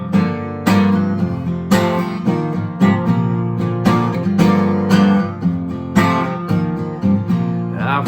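Acoustic guitar intro to a country song, strummed chords ringing out steadily and close, played alone without singing or talking.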